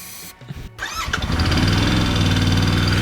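A Royal Enfield Interceptor 650 motorcycle with a no-start problem cranks briefly with a starter whir, then catches about a second in and settles into a loud, steady, close-up running rumble with no talking.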